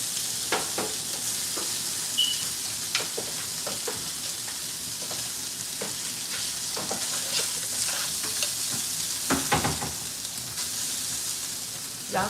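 Georgia sausage fries on a stove for breakfast, a steady close sizzle and hiss broken by scattered sharp pops and spatters throughout.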